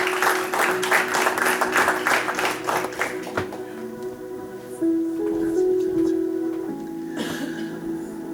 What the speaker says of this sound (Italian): Dá un applauso a Gesù Cristo, amen